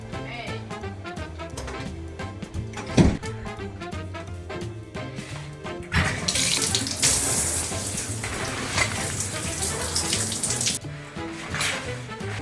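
Water runs in a kitchen sink as spaghetti is drained for shrimp scampi, with a loud, steady rush in the second half after quieter clinks and movement.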